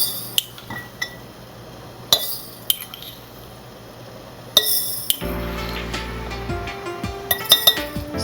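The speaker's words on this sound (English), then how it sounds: "put in 2 teaspoons of mustard seed in each jar" Clinks and taps of a metal spoon against glass canning jars as mustard seed goes in for homemade pickles, a scattering of sharp isolated strikes followed by a denser run of jangling, ringing glass and metal contact.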